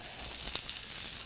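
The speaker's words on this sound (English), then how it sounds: "we're going to put the steak, and we got a nice sizzle going" Steak sizzling in a hot pan, a steady bright hiss of frying fat with a few small pops and crackles, close and continuous with no talking.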